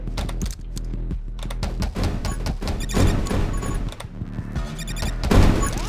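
Dense, rapid gunfire and chains of explosions from the video game 20 Minutes Till Dawn crackle continuously and loudly, with sharp impacts piling on top of each other.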